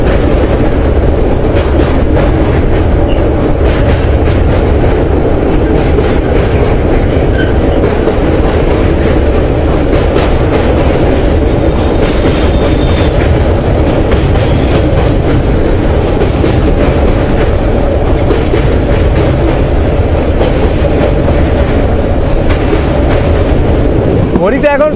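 Kanchenjunga Express, an express train, crossing the Dakshineswar bridge over the Hooghly river: a loud, continuous rumble and rattle of wagons on the bridge, steady for the whole stretch, with a voice faintly underneath.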